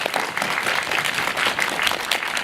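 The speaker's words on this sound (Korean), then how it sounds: "박수 한번 부탁드립니다." An audience applauds steadily throughout at a Korean film screening and guest-visit event with the director and cast. The clapping is a dense, even patter of many hands, moderately loud, with no talk over it.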